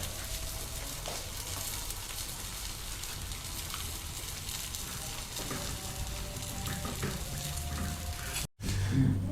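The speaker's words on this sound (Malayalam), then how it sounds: "അപ്പോൾ നമ്മുടെ മീൻ ഏകദേശം ഫ്രൈ ആയി." Fish frying in a pan, a dense continuous sizzle and crackle of hot oil, close and even, cut off by a short gap before a louder burst at the end.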